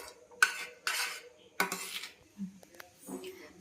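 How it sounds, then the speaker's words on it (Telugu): A spoon stirs thick, jelly-like Karachi halwa mixture with ghee in a pan, giving a few separate metallic scrapes and clinks with quiet gaps between them, close up and alone. "ఇది ఒంట్లో కట్టకుండా జాగ్రత్తగా కలుపుకోవాలండి"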